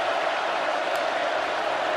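Steady stadium crowd roar at a Florida versus Tennessee college football game, a dense continuous wash of many voices, loud and unbroken throughout, with no clear single speaker standing out.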